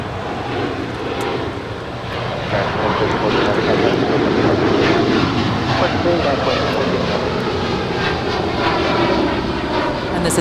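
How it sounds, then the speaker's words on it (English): A United Airlines Boeing 787-10 Dreamliner jet at LAX, a loud sustained engine roar that swells after the first couple of seconds and holds steady throughout. "2614 heading to Newark Liberty on a Boeing 787-10 Dreamliner"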